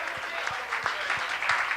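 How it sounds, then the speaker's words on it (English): An audience claps steadily, a rhythmic patter of applause filling the room, with a voice speaking over it. "Let's have a thunderous round of applause for the gold card and Pete."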